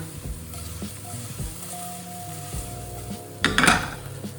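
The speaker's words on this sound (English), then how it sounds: "That can just keep simmering down for a little bit." Butter chicken sauce sizzles and bubbles in a pan, with low rumbling knocks as the pan is shaken and a louder burst of frying near the end.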